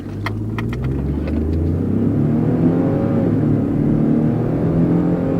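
A twin-turbo V6 car pulls away hard on an empty road, engine note rising steadily in pitch as it accelerates, loud and close from inside the cabin, with no talking.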